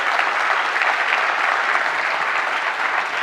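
Conference audience at a Wharton Global Forum closing session gives warm, dense applause, an even wash of clapping throughout.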